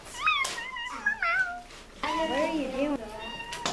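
A pet cat meows several times in a row, each call rising and falling, fairly close, mixed with a voice talking over some of the calls.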